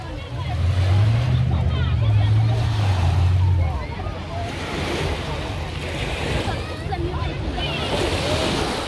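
Surf washes onto the beach at Cannes in a continuous, loud hiss and roar, with gusts buffeting the microphone and a low rumble early on, as voices talk faintly nearby.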